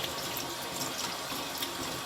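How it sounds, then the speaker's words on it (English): Cold tap water runs steadily over homemade butter being washed in a sink, a continuous close-up splashing and rushing with no talk. "what we need to do is to wash out all of the liquid from this in cold water"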